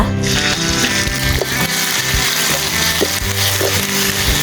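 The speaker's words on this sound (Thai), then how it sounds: "จากนั้นมาคั่วเครื่องแกงที่ตำเรียบร้อยแล้วนะคะ" Pounded curry paste is dry-fried in a pan outdoors in the evening for a dish of hed thob mushrooms with dried frog, giving a loud, dense, continuous sizzle close up, with occasional stirring knocks.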